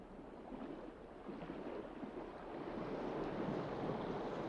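Ocean waves and currents wash over a coral reef in Australia as a faint, steady rushing surf that slowly swells in loudness, with no voices.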